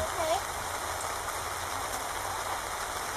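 Steady rain clatters down on surfaces during a river washout near Sooke, a dense, constant patter with no break, heard close and fairly loud on its own.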